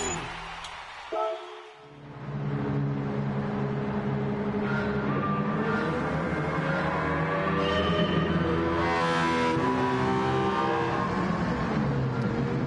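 A racing car engine in Gran Turismo 7 drones and climbs in pitch, loud and close, after a brief dip near the start, with shifting harmonic tones running throughout.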